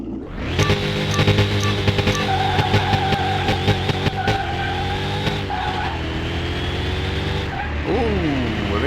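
A McLaren races in the video game Car Mechanic Simulator 2021, its engine note climbing and dropping through gear changes with tire squeal mixed in, loud and continuous throughout.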